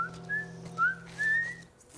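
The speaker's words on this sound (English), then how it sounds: "Ellie learns to whistle." Ellie from The Last of Us whistles a few short, wavering notes, faint and tentative, over a low background hum.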